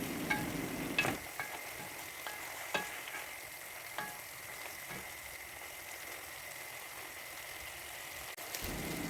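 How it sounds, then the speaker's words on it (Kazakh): Large-cut onions fry in a pan while Uyghur lagman is cooked at home. A quiet, steady crackling sizzle continues throughout, broken by a few faint clicks and taps, with no talking. "Енді үстіне үлкен етіп туралған пияздарды салып,"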